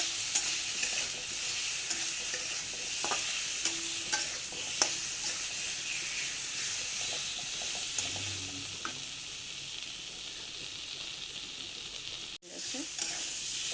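Tomato masala for a potato-and-fish curry fries and is stirred in a pan, giving a steady loud sizzle with scraping stirs throughout, a brief break near the end.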